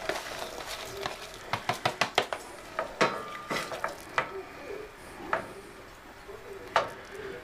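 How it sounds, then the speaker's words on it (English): Cherries and habaneros go into a simmering Cheerwine reduction, with a rapid cluster of clinks and taps against the pot at first, then occasional stirring knocks over a soft bubbling bed. "I'm going to put the cherries and the habaneros on in so they can hydrate"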